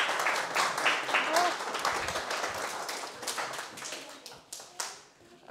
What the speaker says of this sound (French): on peut applaudir Jade de m'avoir aidé quand même